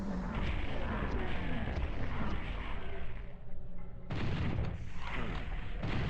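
Rocket launcher blasts in Final Doom played on PS1, with a dense, continuous rumble of explosions and gunfire, a brief dip, then another loud surge of booming detonations.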